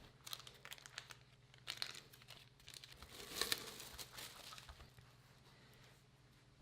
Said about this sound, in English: He removes the paper because no one likes to eat paper.